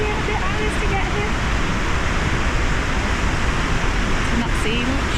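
High Force waterfall near Barnard Castle roars as a steady, dense wash of rushing water, loud and unbroken throughout, with no voices over it.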